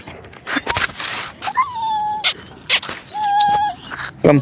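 A dog in a grape vineyard lets out two drawn-out high whimpers, separated by short pauses, with a few sniffs and soft rustles around them.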